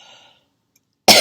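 A brief murmur of faint talk fades into silence, then a single loud, sharp cough bursts out at the very end.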